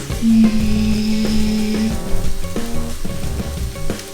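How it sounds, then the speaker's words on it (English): Spinach and pine nuts sizzle in a hot pan for dinner noodles, a steady close frying hiss with a sustained tone early on and a few clinks and stirring knocks through the rest. "now it's time to put in the spinach and the pine nuts"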